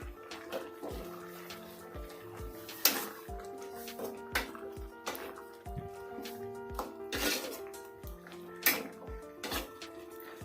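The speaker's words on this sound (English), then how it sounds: "just give it a good stir" A spoon clinks and scrapes against a pot while cabbage is stirred into a Naga dry fish and mixed vegetable curry, giving faint, irregular metallic knocks and taps over a quiet kitchen hum.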